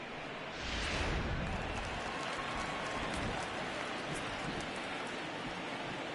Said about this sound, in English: the rain starting to intensify here. It's coming down a little heavier now